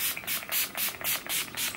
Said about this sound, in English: I'm just going to spritz on my face.